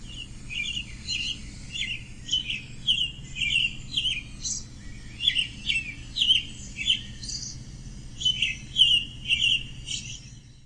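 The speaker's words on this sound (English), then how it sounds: "The American robin is often thought of as a sign of spring, but it is actually a year-round bird for Indiana." An American robin sings in an Indiana backyard, delivering clear, fluting, warbled phrases in repeated bursts over a steady low background hum.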